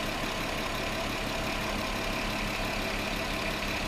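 A 2009 Volkswagen Touareg 3.6L engine, running with a lean condition, idles steadily under a dense, close, even hum and whir with no breaks and no voices.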